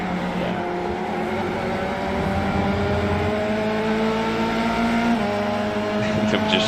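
Formula 3 race car engine in the iRacing sim at Monza, a loud, steady high-revving drone with rising gear-pitch sweeps and shifts, continuous throughout and close, with no one talking.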